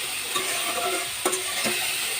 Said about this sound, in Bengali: দেখতেই পাচ্ছেন ছোলাগুলো ভাজা হয়ে যাচ্ছে